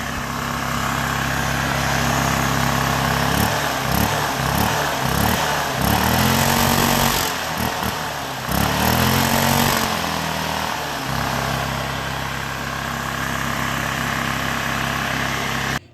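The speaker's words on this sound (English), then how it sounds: "To my favor, the engine ran and idles great and revs strong." A Ducar DJ170F 208cc engine from a Blackmax generator runs steadily at close range, idling with a few sharp throttle blips mid-way that rise and fall in pitch, then settling back into a continuous loud drone.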